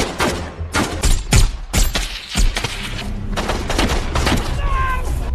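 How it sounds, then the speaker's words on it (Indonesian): Bursts of gunfire and heavy thuds in a film battle scene about Operation Red Wings, Navy SEALs against militia, with rapid shots early on giving way to a sustained rumbling din. "Dalam baku tembak, Danny mencoba menghubungi markas komando untuk meminta bantuan tim reaksi cepat"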